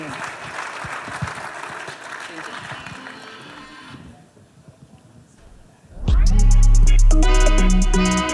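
Audience applause welcoming a CEO and founder onto the stage at a startup demo day, a wash of clapping that fades, followed by a loud burst of stage music.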